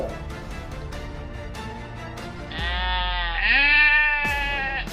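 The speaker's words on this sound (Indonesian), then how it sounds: "Kambing adalah hewan herbivora" Goats bleat up close, first a string of short repeated cries, then long, loud, wavering calls that rise and fall, standing alone over a low rumbling background.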